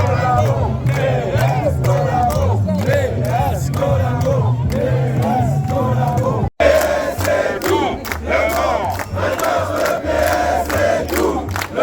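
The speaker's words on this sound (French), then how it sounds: "La manifestation avance, la foule a grossi" A large crowd at a May Day demonstration in 2025 chants and shouts in loud rhythmic unison, a massed roar of voices with brief interruption midway, close and energetic throughout.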